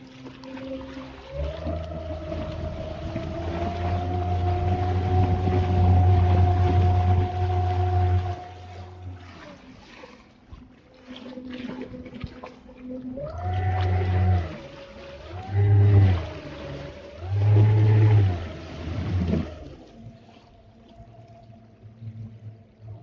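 Homemade wooden mini electric boat motor running on a river, a loud whining hum that holds steady, then drops and surges in several short revving bursts, close by with splashing water beneath.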